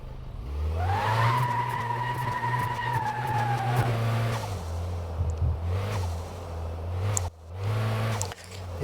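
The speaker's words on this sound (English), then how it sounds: "This car does not sound like your normal family saloon, I have to say, but it's dressed up as one." A sleeper car dressed up as a family saloon, driven on a test track in the video game Car Mechanic Simulator 2026: a loud, steady engine drone with a rising whine, revs dipping and surging near the end.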